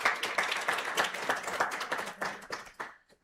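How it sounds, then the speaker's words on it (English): An audience at an African Renaissance panel session applauding, a dense burst of many hands clapping that holds steady before thinning and stopping abruptly near the end, no speech over it. "So please give them another round of applause."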